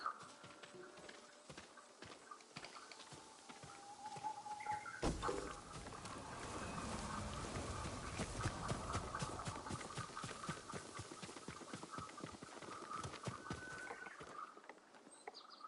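Horse hooves clip-clop in the Ghost of Tsushima video game, a fast steady run of hoofbeats over a broad rushing background, close and continuous through most of the stretch.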